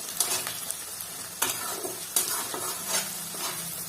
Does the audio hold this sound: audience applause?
no